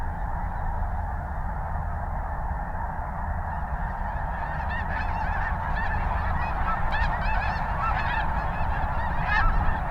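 A large flock of snow geese honks continuously at a partly frozen lake during a snowstorm, a dense chorus of overlapping calls at steady loudness with no talking.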